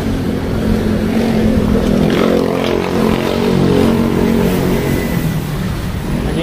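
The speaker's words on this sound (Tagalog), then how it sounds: "Traffic na dito." Congested traffic of cars and motorcycles crawls along the Sta. Rosa–Tagaytay Road where two lanes narrow to one, producing a continuous, fairly loud rumble of engines nearby with no speech.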